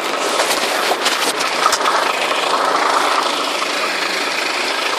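A loud cargo truck engine fitted with an aftermarket non-powered turbo device runs steadily with a rough, vibrating rumble, close by and continuous throughout.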